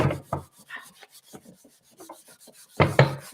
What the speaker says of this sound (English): I'm just sanding it